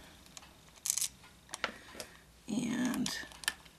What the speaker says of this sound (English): Put in the tiny screws